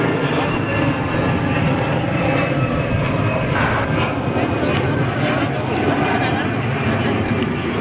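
Jet aircraft roaring on the runway at Zurich airport, a steady broad rumble filling the whole stretch with voices present over it.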